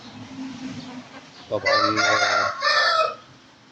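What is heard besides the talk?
rooster crowing and chickens clucking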